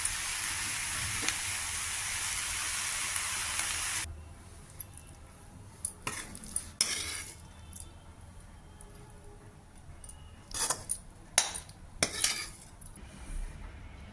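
A spoon scrapes and clinks as ridge gourd curry is served from a pot into a serving bowl, with soft scattered taps and squishy scoops after a few seconds of steady hiss, no talking.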